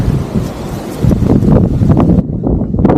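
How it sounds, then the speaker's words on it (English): Strong wind buffets the microphone in a loud, rumbling roar that surges and eases over a few seconds. "Oh, it's starting to get windy too."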